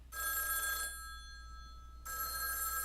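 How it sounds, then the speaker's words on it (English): A telephone bell rings in two bursts separated by a brief pause, in a quiet room with no talking. "Answer the phone, Raven."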